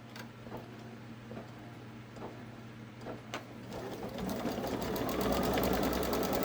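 Babylock Solaris Vision embroidery machine stitching out a design, a steady rapid mechanical ticking that picks up and grows louder partway through, heard up close with no talking.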